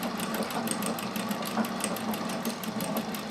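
Singer 201K sewing machine running at a steady pace, a close continuous mechanical hum with a fast even ticking of the stitching action throughout.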